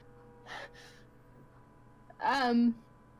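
A voice imitates heavy breathing in a tabletop role-play game, two short breathy puffs followed by a louder drawn-out gasping exhale, close and without other sounds.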